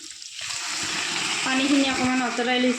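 Boiled peas (matar) hit hot oil in a pan and break into a loud, steady sizzle that builds and holds, with light stirring and spattering.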